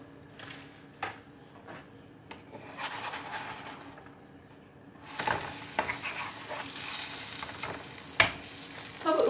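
Gözleme flatbread made from yufka frying in melted fat in a pan, a few quiet scrapes and taps giving way to a broad, steady sizzle that rises and holds close and clear, with occasional sharp clicks and no talking.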